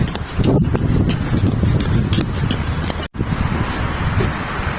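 Steady outdoor wind buffeting the microphone, a broad continuous rush with gusty surges and a brief dropout near the end.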